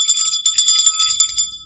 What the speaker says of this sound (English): Not sure if you can hear that bell.